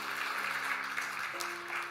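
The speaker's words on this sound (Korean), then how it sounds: "격려하시면서 박수하겠습니다" Congregation applause for the deacons at a Korean church New Year's Eve service, a steady moderate patter of clapping filling the room with a sustained organ-like tone underneath.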